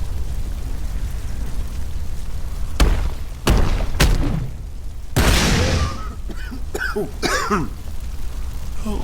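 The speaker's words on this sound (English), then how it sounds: "him surviving this chemical explosion" A few sharp booming blasts burst out one after another, the last one biggest with a rumbling, crackling tail fading off amid hiss.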